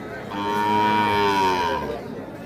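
A single Sahiwal bull calf at a rural cattle market gives a clear, drawn-out moo that swells and fades over about two seconds, close by and with no talk over it.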